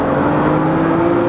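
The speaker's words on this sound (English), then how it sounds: "I'm getting to the point where my car is freaking loud." Turbocharged 600-horsepower BMW F30 335i xDrive sedan with a big-boost build, its engine holding a loud, steady droning tone up close for a brief moment, with no talk.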